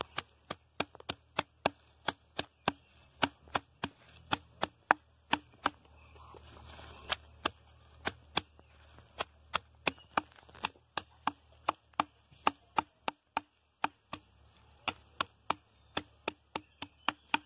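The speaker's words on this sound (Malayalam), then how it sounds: "നമ്മുടെ അഞ്ചതിലുള്ള ചെമ്പരത്തി ഇലയും പൂവും ചേർത്ത് നല്ലോണം ഒരു കല്ല് വെച്ച് ഇങ്ങനെ ചതക്കുകയാണ്" Hibiscus leaves and flowers crushed with a stone, giving steady sharp pounding taps in a regular rhythm with short pauses, close and clear over a low hum, no talking.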